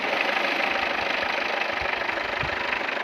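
A car engine runs at a steady idle right after being started by jumping the starter solenoid from the battery positive terminal, a continuous close rumble with low knocking pulses and no voices.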